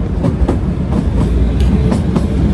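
A Shivalik Deluxe Express running from Kalka to Shimla through forest, with steady rolling rumble and faint rhythmic wheel clacks carrying on continuously, heard close from inside a carriage.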